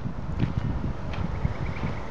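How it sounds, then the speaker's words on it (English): Wind buffets the microphone with a low, rumbling roar, steady gusts thumping close and loud throughout. "sorry if you can't really hear me, it's kind of windy right now."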